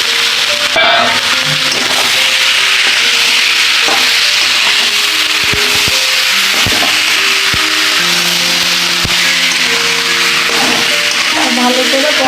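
Soybean chunks and potatoes sizzling as they are sautéed in a pan, a steady loud frying hiss with occasional knocks and stirring clatter throughout.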